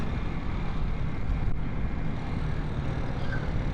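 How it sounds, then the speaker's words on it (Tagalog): Honda TMX 125 motorcycle at about 90 km/h on a long road ride from Manila to Bicol, its engine a steady, loud drone blended with heavy wind rush across the microphone, constant and without pause. "pag nagna 90 kilometers na siya, talagang galit na yung makina"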